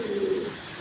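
A racing pigeon of foreign bloodline gives a single short, close coo that fades within half a second.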